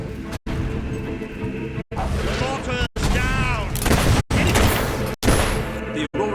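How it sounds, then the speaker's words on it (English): Mortar fire and explosions in Fable III, a chaotic run of booming blasts and gunfire bursts with sharp gaps between volleys, loud and close, over several seconds with game voices mixed in. "You've used one of those mortars before. How about you blow up this one?"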